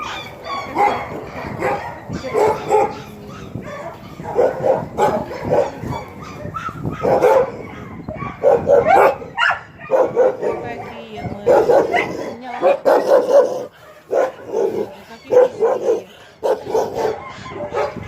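Dogs bark, yip and whimper in bursts at an animal shelter in Yakutsk housing dozens of puppies and adult dogs, some near and loud, with people talking among the barking throughout.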